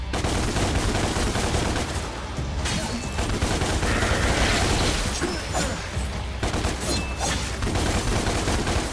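Dense gunfire from the video game DMC, rapid continuous shots and booms with mechanical clatter that stay loud throughout, with no speech over the shooting.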